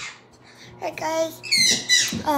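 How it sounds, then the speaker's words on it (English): A pet bird in a kitchen squawks and chirps close by, with shrill, rising calls that come in quick bursts and grow louder toward the end. "sorry for my bird."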